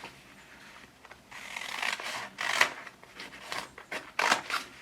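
Scissors snip through paper while a fraction foldable is cut out, a few close, crisp cuts with rustling between them, no voices.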